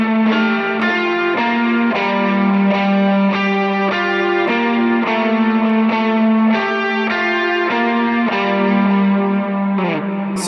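Electric guitar lead played through a Tube Screamer overdrive with dotted-eighth delay and big reverb, sustained melodic notes changing every second or so, loud and close with repeats trailing behind, no talking.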